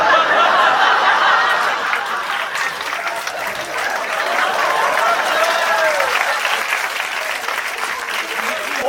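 Audience at a French stand-up comedy show applauding, loud sustained clapping mixed with chuckles and crowd noise, gradually easing off but continuing through.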